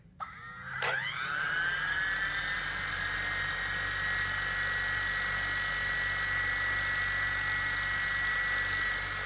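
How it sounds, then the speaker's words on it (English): A model L.A. fire helicopter starts with a click and a brief rising whine, then its motor spools up into a steady, high, close electric whir that holds constant for several seconds. "Down and out is to start it and it'll spool up."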